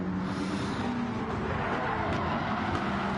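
In a racing video game, a race car skids under braking, a harsh tire scrub and squeal over a constant engine roar, loud and close with no talk.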